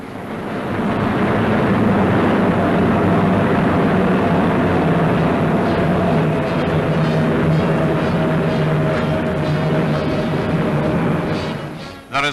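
Engines of a Douglas A-20 Havoc Boston III bomber drone loudly and continuously in a steady, broad roar that holds constant before cutting off abruptly at the end.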